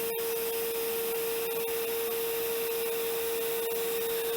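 An upholstery extractor draws sprayed cleaner back out of car seat fabric, a constant suction hiss and droning hum close by with faint rubbing and slurping bursts, no voices.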